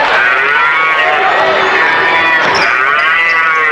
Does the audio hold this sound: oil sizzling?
no